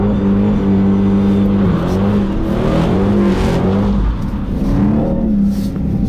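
A Dodge Challenger Hellcat engine revving hard while the car drifts: a loud, steady, close-up roar whose pitch rises and dips as the throttle is worked, with no talking.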